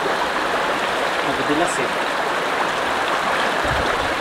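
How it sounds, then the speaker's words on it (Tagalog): Strong river current rushing over rocks at Biak na Bato, a dense steady wash of flowing water filling the scene, with a brief voice speaking over it. "Medyo nahihirapan po ang team na makatawid dahil sa napakalakas pong agos ng tubig."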